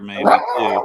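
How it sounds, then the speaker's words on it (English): A dog barks close by, a short sharp bark with a second yip following, heard over a brief stretch of talk. "That was my dog barking."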